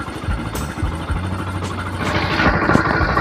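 Motorcycle engine idling steadily after Jet 1 Extreme Oil has been added, a continuous low rumble with rising broadband noise toward the end, no talk.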